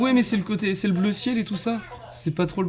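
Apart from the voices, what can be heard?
No everyday noises stand out.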